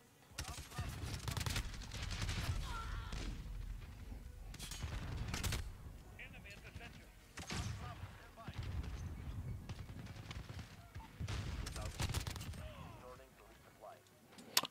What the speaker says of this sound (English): I'm getting two-shotted by an Uzi.